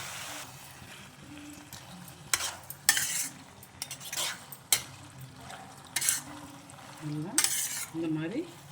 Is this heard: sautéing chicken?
yes